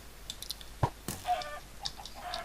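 Minecraft chickens clucking in the video game, a few short scattered clucks and squawks, near and moderately loud over faint background noise.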